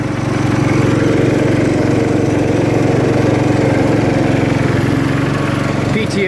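A 1968 John Deere 110 lawn tractor engine runs close and loud at a steady, even idle throughout, with only a small disturbance near the end.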